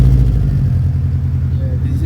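A 2002 Subaru WRX fitted with an eBay exhaust rumbles close by at a steady, deep idle-to-rev drone, with voices talking over the engine throughout.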